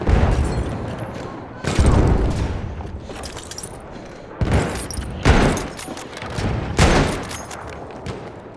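Gunfire in the video game Battlefield 1: repeated loud bursts of shots and booms in several volleys, with players talking over the action.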